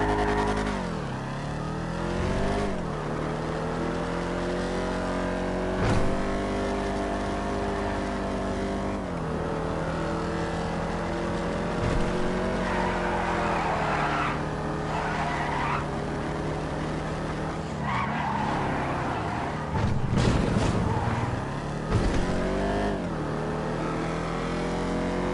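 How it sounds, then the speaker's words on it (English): A convertible car on a test drive, its engine revving up and down through gear changes with a strong harmonic whine, occasional skids and bumps, running loud and steady with almost no talking. "it's a convertible. Again, let's test drive this thing out"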